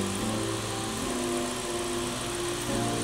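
A car engine running at a steady idle, a loud, close, continuous rumble with an even drone throughout and no talking.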